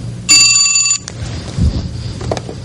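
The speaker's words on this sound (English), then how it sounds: "Wasn't expecting any calls in on this phone today." A telephone rings once with a bright, loud electronic tone, followed by handling clatter and quieter rustling as the phone is picked up.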